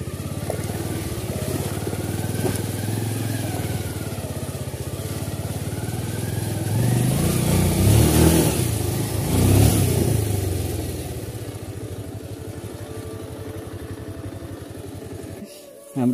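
A motorcycle rides along a rough off-road track in Nepal, its engine droning steadily and close, rising to a louder revving surge midway before settling back.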